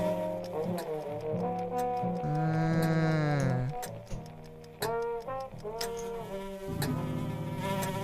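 A cartoonish mosquito buzz in a video game, a whiny pitched drone that rises and falls over several seconds, mixed with plucked game music tones and clicks, loud and close.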